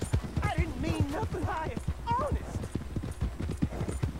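Horse hooves clip-clop steadily and close in Red Dead Redemption 2, a brisk rhythmic walk on hard ground, with a horse neighing partway through and a voice speaking over the hoofbeats.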